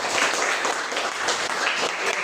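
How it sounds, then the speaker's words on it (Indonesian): Children clapping their hands together in a classroom, a steady, dense patter of applause that holds for a couple of seconds with no voices on top. "Oke, tepuk tangan untuk semuanya."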